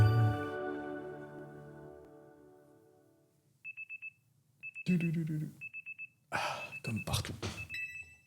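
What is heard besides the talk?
alarm clock ringing in Pokémon Legends Z-A video game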